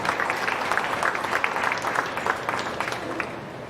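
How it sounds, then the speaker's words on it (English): Spectators at a county fair beef show applauding exhibitors after a Hereford steer class, steady moderate clapping across the arena, continuous throughout without fading. "Give all these exhibitors a nice round of applause on this Hereford steer class."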